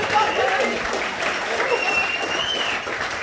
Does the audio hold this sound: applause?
yes